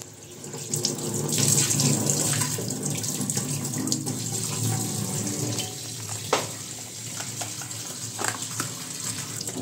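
Tap water running steadily into a sink while cooked fish bones are rinsed under it, a continuous close splashing rush with occasional clinks and knocks.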